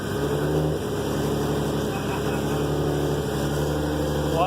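Toyota 2JZ engine starting and settling into a steady idle after a timing belt replacement, a close, even mechanical hum with a faint high whine, under brief talk.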